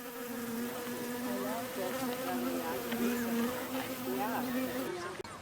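A bee buzzes steadily and close among salvia flowers in a garden, with a sustained droning hum that holds for several seconds before cutting off abruptly.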